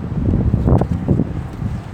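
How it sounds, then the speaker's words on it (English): Wind blows outdoors in steady, buffeting gusts against the microphone, producing a continuous low rumble throughout. "It's windy."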